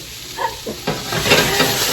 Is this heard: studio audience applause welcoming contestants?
no